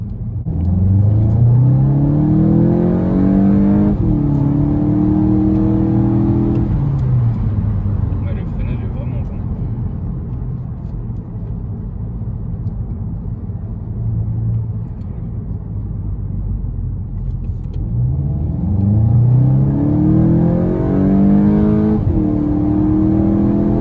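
A stock Volkswagen Golf 8 GTI engine revs hard and climbs through the gears, rising whine and deep rumble from inside the cabin, easing off midway before surging again.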